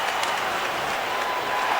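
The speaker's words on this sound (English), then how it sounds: "Look at this crowd." A crowd roars during an NHL game between the New York Rangers and the Detroit Red Wings at the Joe Louis Arena, a loud, dense, unbroken wash of cheering and clapping throughout.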